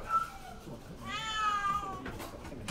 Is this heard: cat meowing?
yes